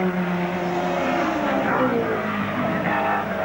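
Touring race cars, including a yellow BMW, lapping the Lakeside circuit during a 1991 Australian championship round, engines droning and swelling as they pass amid steady roar, with faint commentary beneath.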